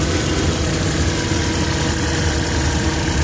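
A fuel-injected Suzuki F6A engine with low power and throttle delay idles with a loud, steady, close rumble and no pauses or talk.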